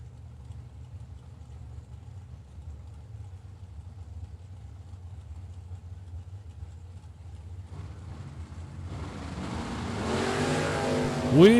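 A Chevy Camaro and a Chevette at a drag strip: a low engine idle rumble holds for several seconds, then a loud rising rev and launch roar builds toward the end, with no talk.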